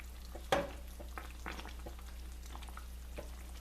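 Beef shin stroganoff simmers in a pot, giving a soft steady bubbling and sizzling bed with a few clinks and light stirring knocks, one sharper clatter early on, close and without speech.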